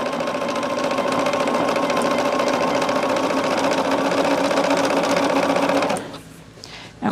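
A sewing machine runs steadily, stitching a Poppie Cotton Country Blessings quilt block, a loud close continuous whir for about six seconds before stopping abruptly, followed by quiet.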